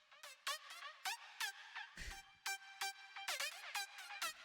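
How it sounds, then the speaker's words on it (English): Synth lead with heavy pitch bends and portamento, gliding and swooping notes in a bouncy, choppy pattern over sparse bass hits, quiet and continuous with no voices. "So it has like a lot of pitch bends in it."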